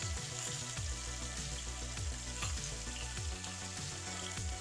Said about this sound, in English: We'll sear both sides, pull it out